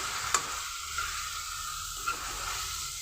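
A spoon stirs sun-dried mutton curry with chili powder in a pan, with a steady sizzle and hiss and a few soft scraping knocks against the pan.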